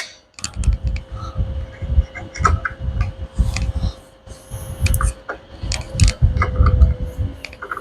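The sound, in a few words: spanner wrench tightening piston on Massey Ferguson steering cylinder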